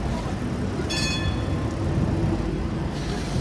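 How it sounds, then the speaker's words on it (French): Trams and buses pass along a busy lower-town city street, a steady heavy traffic rumble with a brief high metallic squeal of wheels or brakes partway through. "c'est là que passent tous les tramways, tous les bus"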